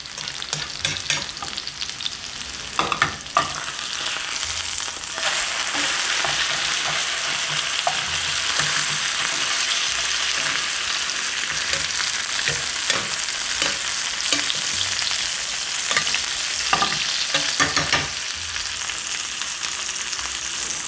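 Steak sears loudly in a hot pan with a sprig of rosemary, a dense steady sizzle and crackle running throughout, with occasional stirring and utensil knocks close by.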